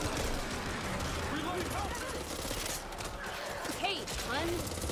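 Bursts of gunfire in the Back 4 Blood shooter game, rapid overlapping shots rattling through a busy mix of effects while people talk over the action.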